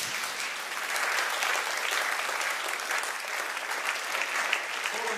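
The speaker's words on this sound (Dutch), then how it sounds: "Geef ze nog een groot applaus en fijne avond" Sustained applause from a studio audience at the close of a school talk show, steady dense clapping throughout with a few louder claps standing out.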